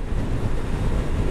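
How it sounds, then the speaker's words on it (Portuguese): Wind roars and buffets against a motorcycle rider's microphone on a Brazilian highway, a loud, continuous broadband rush with no other sounds. "Olha o vento."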